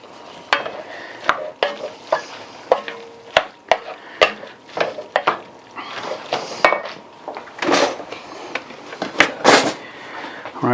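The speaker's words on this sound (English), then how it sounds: "give this a mix" A spoon stirs truck stop chili in a pot, with repeated sharp scrapes and clanks against the metal in an uneven rhythm over a soft sizzle, close and fairly loud, with no talking.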